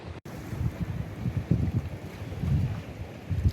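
Wind buffeting the microphone on open sea while paddleboarding off Magadan, a low gusty rumble with irregular swells and water movement, no voices.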